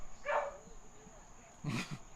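A dog barks during a women's World Cup soccer watch party between the USA and Sweden, giving two short yips under background noise and a steady hum.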